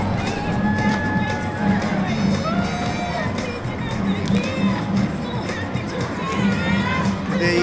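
A large crowd at the downtown Brockton holiday parade makes a steady, loud wash of cheering, chatter and children's shouts, with voices talking through it and a brass-like tonal layer underneath.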